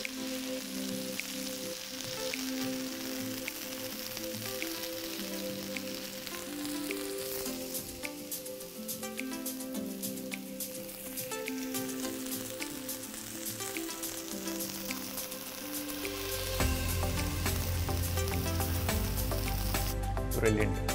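Peri peri paneer tikka with onions and peppers sizzles steadily in a hot pan under background music, with a fuller, louder fry in the last few seconds.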